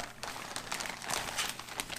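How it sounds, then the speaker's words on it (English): The crinkly plastic accessory bag of a British military 24-hour vegetarian ration pack is pulled open up close, giving a bright, irregular run of crackling rustles across two seconds. "Let's get into this plastic bag"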